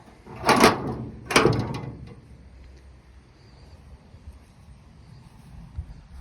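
Two solid clunks from the latch of a rusty old truck door as it is worked, close and fairly loud about half a second apart, followed by quiet room hum.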